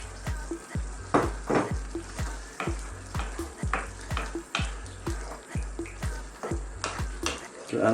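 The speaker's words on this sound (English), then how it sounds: "Give it a nice mix." Loud, steady sizzling and frying as a lamb and potato stew is stirred in a pot, with rhythmic scraping strokes repeating roughly every half second, close up and without talk.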